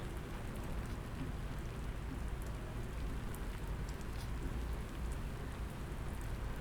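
Rain patters steadily across a window during a November storm at midnight, a dense, even wash of drops with no voices.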